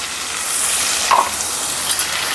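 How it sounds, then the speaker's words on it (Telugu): Dried prawns hit hot oil with a loud, rushing hiss that holds steady and swells briefly midway, close and full. "ఇప్పుడు మనం ఎండి రొయ్యలు వేస్తున్నాం. దీంట్లో ఆయిల్ వేడెక్కింది."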